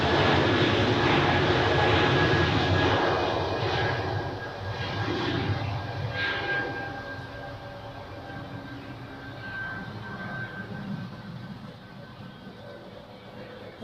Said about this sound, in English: So now takeoff for the Swiss A220 to Florence